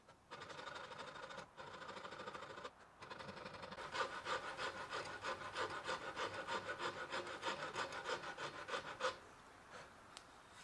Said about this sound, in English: I'm going to switch to the transition areas from the neck to the headstock and the neck to the heel by using a half-round rasp